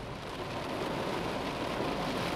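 Rain falls steadily on a car windshield with no wipers running, heard from inside the car as a soft, even wash of drops on glass.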